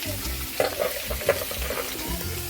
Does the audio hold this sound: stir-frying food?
yes